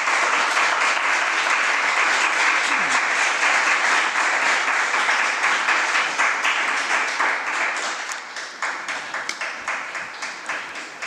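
The audience at a municipal council plenary session applauds in a dense, sustained round of clapping that thins out into scattered individual claps toward the end.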